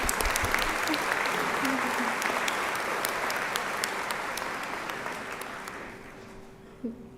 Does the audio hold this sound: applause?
yes